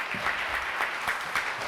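Audience applause in a hall, short bursts of clapping that swell and fade in a rough rhythm, with a voice faintly underneath.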